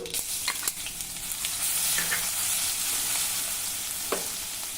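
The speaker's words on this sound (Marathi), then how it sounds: "चिमूटभर मोहरी घालू मोहरी तळतळली की जिरे घालूया" Mustard seeds and cumin sizzling in a generous amount of hot oil for a vegetable dish, a steady close frying hiss with small pops and crackles, no talking.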